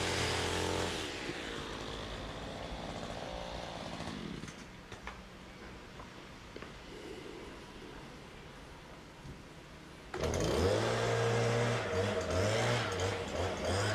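A string trimmer whines loudly nearby as it cuts a vertical lawn edge along a paved footpath, its engine steady, easing off slightly in the middle stretch before surging back louder near the end.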